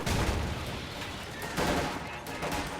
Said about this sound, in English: Oh, look, he has a machine gun.